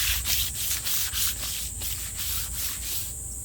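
Steady close scrubbing of dirt off a tent fabric after a flood, a continuous rasping brush with quick repeated strokes, loud and alone without any voices.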